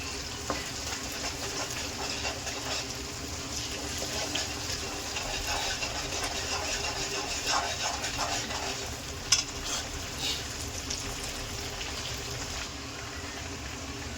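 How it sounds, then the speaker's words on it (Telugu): Ginger-garlic paste being stirred into frying chicken curry, a steady close sizzle with soft scraping stir sounds running evenly throughout, no talking. "అల్లం వెల్లిపాయ మొత్తం ఇలా కలుపుకోవాలి మంచిగా"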